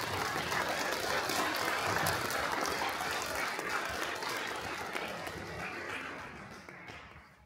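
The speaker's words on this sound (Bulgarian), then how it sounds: "Моля силни аплодисменти." Sustained applause from an awards ceremony audience, dense clapping that holds steady and then tapers off at the end.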